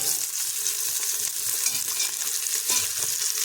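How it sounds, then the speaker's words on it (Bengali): Vegetables fry in hot ghee in a home kitchen pan, a steady close hiss of sizzling with faint stirring scrapes throughout, no talking. "ঘিটা দেওয়ার পরে আমি আর একটু ঘি দিলাম, যেহেতু সবজি দিয়েছি।"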